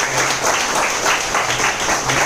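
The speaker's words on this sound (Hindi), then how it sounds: "जिनके लिए मैं जबरदस्त तालियां चाहूंगा" Applause from the audience at a training event, with a crowd clapping steadily and fairly loudly throughout.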